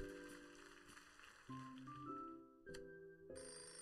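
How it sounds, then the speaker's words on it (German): A synthesized telephone ringtone in a children's fire brigade game plays in a quiet, steady melodic pattern of electronic tones, repeating with short pauses between phrases. "Oh, das Telefon läutet."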